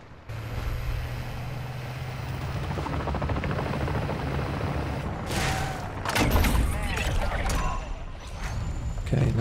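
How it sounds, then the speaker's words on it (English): A helicopter in Call of Duty Modern Warfare Zombies gives off a steady rotor drone, with bursts of gunfire and explosions breaking in partway through, and a player talks over it. "the mercs have scrambled a bloody helicopter"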